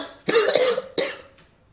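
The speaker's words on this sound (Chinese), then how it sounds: "别咳嗽。" Two sharp coughs from one person, close and loud, the second shorter, followed by a faint trailing breath.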